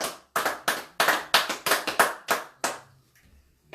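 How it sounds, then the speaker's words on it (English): A small group claps in uneven bursts, about nine distinct rounds of hand claps close by, each fading quickly, then tapering into near silence. "Give her a round of applause there, folks."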